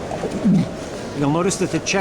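A dominant opal check pigeon hen gives a couple of soft, throaty coos up close, and a person talks over them.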